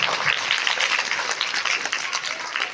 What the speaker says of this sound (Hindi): तो जोरदार ताली बजाएं आप